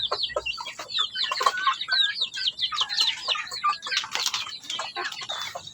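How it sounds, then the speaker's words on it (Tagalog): A native hen clucking close by, a run of rapid, uneven clucks and squawky calls in irregular bursts, fairly faint with no talk over it. "isang inahin lang to guys"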